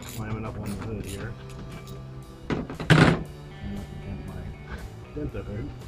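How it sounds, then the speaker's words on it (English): A single heavy metallic thunk rings out as a truck hood is slammed shut, with quieter clatter and movement around it. "Slamming up on the hood here."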